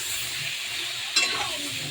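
Cauliflower florets dusted with turmeric fry in a pan over a raised gas flame, giving a steady close sizzle with one brief stir or scrape midway and no voices.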